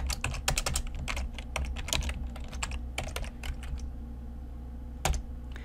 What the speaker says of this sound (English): So in here we need to type